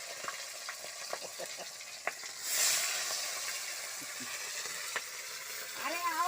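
Fish frying in hot oil in a pan for a village puja meal: a soft, steady sizzle with light scraping and stirring clicks, fairly quiet and close.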